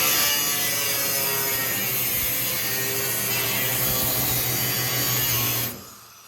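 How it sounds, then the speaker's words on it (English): A Sawzall reciprocating saw cuts through a roof during a bubble roof installation, a steady loud rasping buzz with a low engine-like hum running for several seconds before stopping abruptly. "You're just gonna make a nice little cut each direction so we can get the Sawzall in there?"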